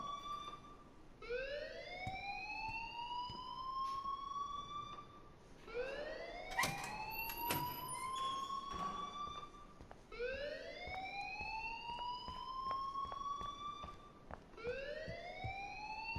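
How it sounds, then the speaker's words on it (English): In Life Is Strange, a school alarm rises in repeated siren-like sweeps, each climbing wail a few seconds long and recurring steadily, fairly faint with some scattered clicks and clatter underneath. "please turn off that alarm since that's your job"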